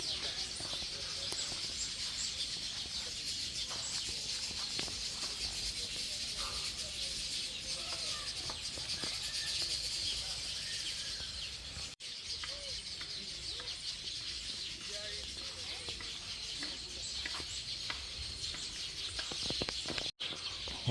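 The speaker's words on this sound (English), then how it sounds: "as you can hear, there's so plenty of birds here, the weaver birds" Many weaver birds chatter and call at once, a busy, continuous twittering chorus that fills the air throughout.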